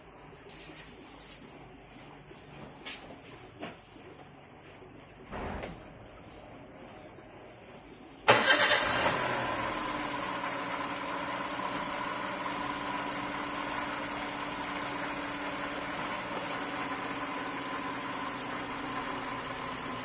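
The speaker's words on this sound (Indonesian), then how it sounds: "kita tes nyalakan mesin, lalu kita cek RPM di dalam ya" A Toyota Avanza engine cranks and catches partway through, then settles into a steady, continuous idle hum that carries on to the end.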